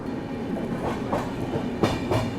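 Secunderabad Duronto Express 12286 rolling through Bina Junction without stopping, a steady rumble of wheels with rhythmic clacks over rail joints and occasional sharper bangs, close and loud.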